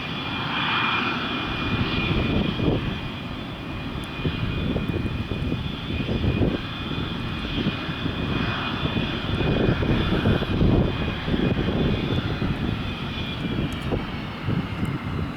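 Airliner taxiing toward the gate at El Paso airport, a steady, loud jet engine drone with a continuous whine, heard nearby and alone for the whole stretch.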